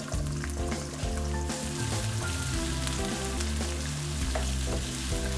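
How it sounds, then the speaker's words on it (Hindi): Onions sizzle steadily in hot cooking oil in a pan while prawn biryani is being made, with a dense, continuous crackle and occasional clinks of stirring. No one speaks. "अब इसमें प्याज डालेंगे।"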